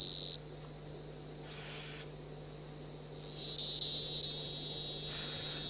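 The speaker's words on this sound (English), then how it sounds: "17-year cicadas are not that loud, because that's just one." Outdoor field chorus of 17-year periodical cicadas, a high continuous buzzing whine that drops away briefly, then swells back and grows louder and denser toward the end, with a low steady hum underneath.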